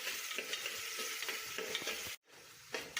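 Shallots frying in cow ghee give a dense, close sizzle with light stirring scrapes, cut off by a brief silent gap near the end before the sizzling resumes.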